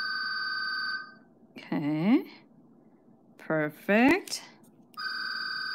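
A telephone rings in repeated electronic trills at the start and end, with a person speaking briefly in between while the ringing pauses.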